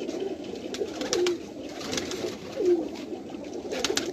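Pigeons coo in repeated low, soft rolling calls against a dense background of other birds, with several distinct coos spaced across a few seconds at close range.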